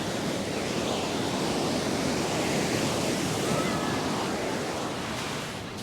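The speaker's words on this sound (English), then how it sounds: "Yeah, look at that shore break. It's bashing down." Shore break surf pounding a Sydney beach, a loud, continuous wash of crashing waves and hissing foam, close by, with wind buffeting and no talk.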